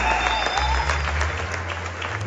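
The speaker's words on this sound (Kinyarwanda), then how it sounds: "reka dukomere Imana yacu amashyi menshi." A church congregation bursts into loud, sustained applause, dense overlapping claps filling the space evenly from start to finish with no break.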